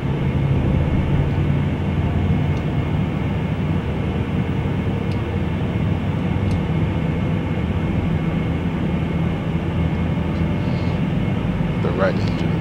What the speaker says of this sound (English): I can go ahead and start with the left engine.